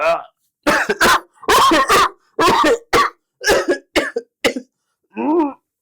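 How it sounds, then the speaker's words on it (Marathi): Several harsh, forceful coughs from an acidity-related cough, in quick irregular bursts, close and loud, with short pauses between them and a final rougher hack. "अशा प्रकारचा खोकला जर तुम्हाला येत असेल"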